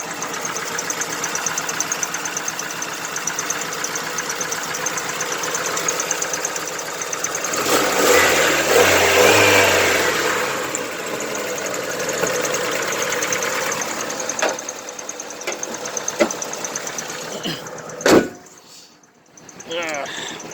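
A 1989 Dodge Dakota 2.5-liter four-cylinder running and shaking hard: a loud, steady, rough chugging idle throughout, with a brief surge and a clunk near the end.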